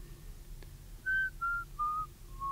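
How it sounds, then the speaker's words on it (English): A man whistles a slow tune of four clean, sustained notes, each slightly lower than the last, after a faint tap, close and alone in a quiet space. "I like to whistle."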